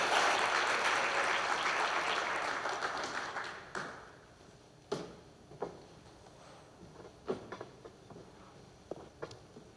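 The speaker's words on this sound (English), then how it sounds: "give them a round of applause" An audience applauds a panel at a conference, the clapping loud and dense at first, then fading after a few seconds into a handful of scattered claps and small knocks in a quiet room.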